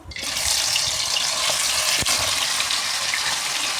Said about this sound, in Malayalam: ഇനി നമുക്ക് ചിക്കൻ പീസ് ഓരോന്നിട്ട് പൊരിച്ചെടുക്കാം.